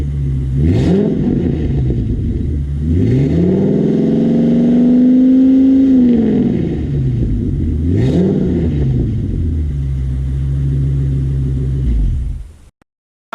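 A V10 truck engine with the catalytic converter cut off revs loudly up close: a deep, rumbling idle that swells into one long rising and falling rev, with shorter blips before and after, then cuts out abruptly.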